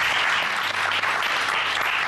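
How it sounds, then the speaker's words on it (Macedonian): A studio audience at a game show gives a short burst of steady applause, dense and fairly close. "Ајде, аплауз, може аплауз."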